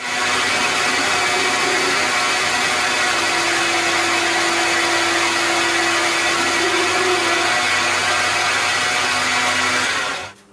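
A metal lathe turns down the diameter of a metal part to about 12 millimetres, making a loud, continuous mechanical drone with a steady hum that stops abruptly at the very end.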